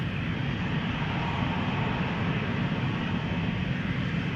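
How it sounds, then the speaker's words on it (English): A steady, fairly distant jet roar comes from a 13-year-old BA CityFlyer Embraer 190 departing Amsterdam Schiphol, with no voices. "This is an Embraer 190, 13 years old, first flight January 2012."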